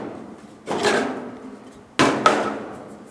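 Wooden knocks and scrapes come as a board is pulled out of a rear bucket seat backrest in a 1967 GTO restomod: one dull thud-and-slide, then a sharper pair of bumps close to the mic, with no speech.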